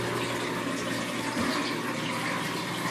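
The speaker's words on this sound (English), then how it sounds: "there's a leak from the front or from the back of the machine, and there's water there draining" Water pours steadily from a leaking Magic Chef 1.6 cu ft portable washer, a loud, continuous rushing and splashing that holds even throughout, with no talking.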